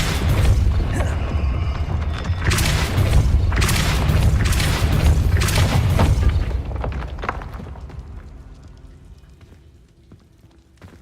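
Depulso spell impact in the Hogwarts Legacy video game: a loud, rumbling blast with crackling debris bursts for several seconds, then fading into a quieter low tail.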